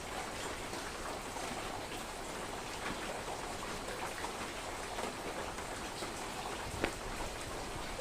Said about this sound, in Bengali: বৃষ্টি হচ্ছে, প্রচন্ড বৃষ্টি হচ্ছে রাত।